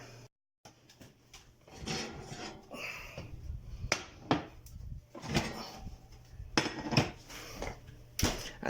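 Corn bread batter going into a buttered cast iron skillet: a series of sharp clanks, taps and scrapes of a utensil against metal, irregular and close, with soft wet pouring in between.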